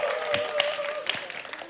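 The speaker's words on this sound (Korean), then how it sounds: "박수 부탁드립니다" Audience applause fills a talk-event hall in Gwangju, a dense wash of claps at moderate distance with a few sharper individual claps standing out and a faint steady tone running underneath.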